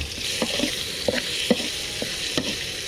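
Battered, fried sea mole crabs are stir-fried with holy basil in a hot pan, a close steady sizzle broken by sharp scraping stirs and clacks of the spatula, with no talking.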